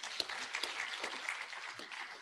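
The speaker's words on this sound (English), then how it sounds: "Give them a clap." A crowd gives steady, moderately loud applause at an International Women's Day celebration in Kenya, a continuous wash of many hands clapping with a few sharper claps standing out, and no talk.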